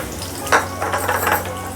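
Onions fry in a ladleful of oil in a pan, a soft sizzle broken by a sharp utensil clink and a few scraping stirs, close by.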